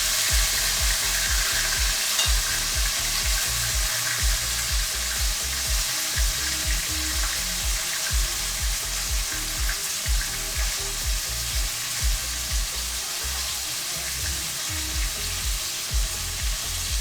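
Food fries and sizzles steadily in a pan on a stove, a dense, continuous crackle with small stirring knocks, alone and fairly loud throughout.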